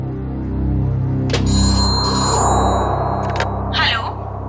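A telephone rings on an outgoing call: a few brief, bright electronic ring tones sound over a steady low background hum, followed by a short chirp.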